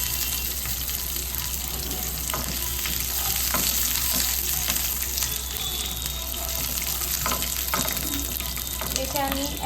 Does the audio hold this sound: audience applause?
no